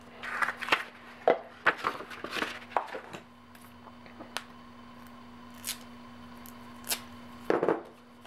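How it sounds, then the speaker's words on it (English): Scissors snip through paper while cutting out the inner circle of a cone or frustum pattern, giving a series of close, crisp cuts in uneven bursts with quieter gaps between. "And then you cut out the inside circle."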